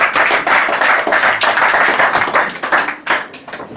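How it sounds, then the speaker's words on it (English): A crowd at the Edo Igwe Festival in Frankfurt claps loudly and energetically, a dense burst of hand claps that thins out toward the end. "very powerful hand of applause"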